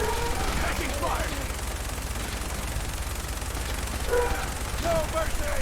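Video game gunfire rattles through a firefight, steady bursts of automatic shots held at moderate distance under combat noise, with voices speaking briefly over it.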